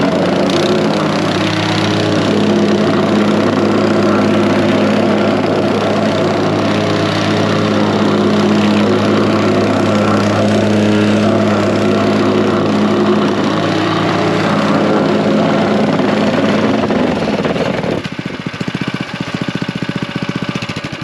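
A gas plate compactor runs on a paver patio, a loud, close, steady engine drone with rattling vibration that holds for most of the stretch before dropping off sharply near the end.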